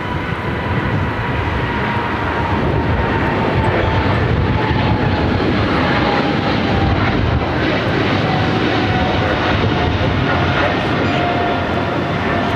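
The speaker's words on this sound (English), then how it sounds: "The flight to London Heathrow, the 777-300ER, flight 136, rolling down to 25 right" Boeing 777-300ER jet rolling down runway 25 Right at LAX on a flight to London Heathrow: a steady, loud, broad engine roar that holds continuously throughout without a break.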